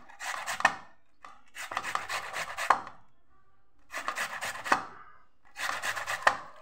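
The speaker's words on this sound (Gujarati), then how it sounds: "આવી રીતે આપણાને ખમણી લેવાનું." Tomatoes rubbed against a hand grater for a Gujarati tomato pickle, four bursts of close rasping scrapes separated by short pauses, with a faint knock at the end of each pass.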